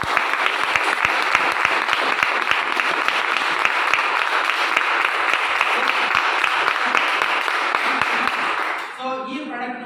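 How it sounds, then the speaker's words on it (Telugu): Audience at a product launch event for a protein supplement applauding loudly and steadily for about nine seconds before the clapping abruptly stops, leaving faint room sound. "ఒకసారి పెద్దగా బిగ్ రౌండ్ ఆఫ్ అప్లాజ్"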